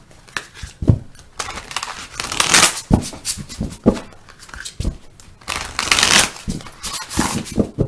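Tarot cards slide and shuffle across a table in a run of crisp, papery swishes and flicks, with a few sharper snaps standing out close and fairly loud, and no voice over them.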